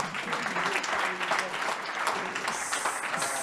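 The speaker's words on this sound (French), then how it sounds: "On vous applaudit." Audience applause at a company visit in the Sud region, a dense, steady wash of many hands clapping throughout, fairly close and uninterrupted, with no speech over it.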